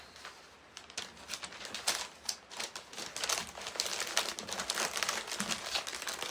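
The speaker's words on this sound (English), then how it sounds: "then we'll crinkle up some of these for filler" Sheets of printed paper ads are crinkled by hand into packing filler, giving a close, steady stream of crisp crackling and rustling bursts that runs the whole time with no talk.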